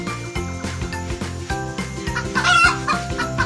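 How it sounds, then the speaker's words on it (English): A rooster crows loudly and close, the harmonic call rising and sustained, with clucking fowl and a light jingle in the background. "rooster"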